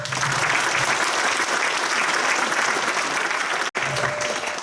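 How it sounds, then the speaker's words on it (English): A concert audience claps for the compere in an anniversary show, broad continuous applause from a large crowd, steady and fairly loud, with a brief sharp dropout near the end. "please put your hands together and give Willie a big round of applause"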